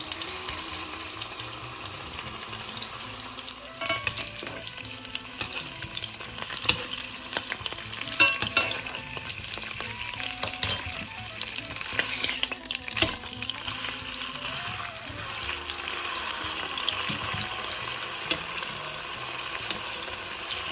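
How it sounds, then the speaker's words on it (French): Veal searing in hot olive oil in a frying pan, a steady broadband sizzle running throughout with occasional spatters and soft stirring or basting clatter, close and moderately loud, with faint background music tones and no talk. "je vais marquer la pièce de veau des deux côtés dans l'huile"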